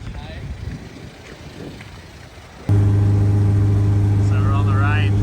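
A 1000HP K24 Honda-engined rear-wheel-drive car climbs a steep street hill. Muffled talk and wind noise come first, then a loud, steady engine drone swells abruptly and holds under the cabin.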